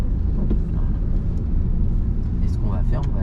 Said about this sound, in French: On accélère doucement.